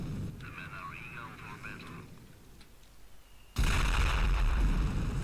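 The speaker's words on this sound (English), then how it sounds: "now you can see the range of the mortar" Mortar rounds from an artillery battery exploding in a World War II strategy video game, a sudden loud blast near the end after quieter battlefield ambience and a distant whine.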